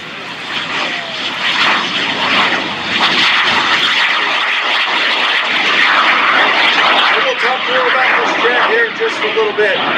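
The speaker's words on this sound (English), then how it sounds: "Tom will be performing a cross-section of movements that he used when he trained fighter pilots as an instructor in the Air Force." At the Great Texas Airshow a propeller airplane flies aerobatic maneuvers, its engine a loud, continuous droning roar that rises and falls slightly, with a crowd murmuring and voices underneath.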